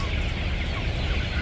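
Dense, close clucking of a large flock of about 5000 two-month-old laying-breed chickens inside a chicken house, a continuous overlapping chatter.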